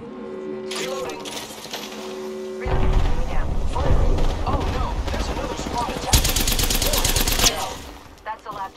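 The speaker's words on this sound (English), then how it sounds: "The enemies are shooting at me." Enemy gunfire in Apex Legends, with rapid bursts of automatic shots and heavy thuds. A loud dense volley lands midway over game noise, and a voice talks during the fighting.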